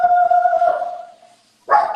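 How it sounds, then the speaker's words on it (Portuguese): A small dog barks indoors during an interview, a pitched, tonal yelp stretching through the first second and fading, then a short second bark near the end, fairly close and alone without talk. "A minha cachorrinha deu sinal aqui"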